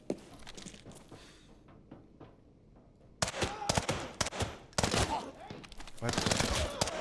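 A submachine gun fires in Arena Breakout Infinite, with several short, loud bursts of rapid shots, sparse early on and then dense, repeated volleys in the second half, sounding close with brief gaps between bursts.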